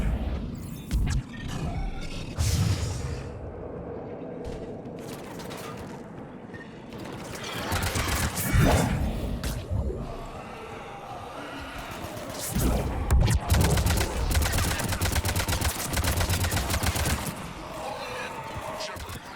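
Gunfire and battle clatter in the sci-fi shooter Mass Effect 3, heavy bursts and mechanical bangs under game music and character dialogue, loud and dense in waves.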